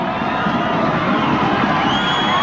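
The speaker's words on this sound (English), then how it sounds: "there'll be a round of applause if he gets up and is fit to go on" A stadium crowd at a 1990 Challenge Cup rugby league match between Parramatta and St George gives a sustained roar of applause and cheering, steady and fairly distant throughout.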